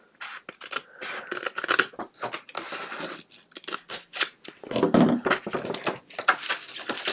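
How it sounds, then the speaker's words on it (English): Scissors snip through a piece of paper being trimmed for a handmade envelope, a close series of short, crisp cuts and rustles with brief pauses between strokes. "I'm just going to trim this piece down just a little bit"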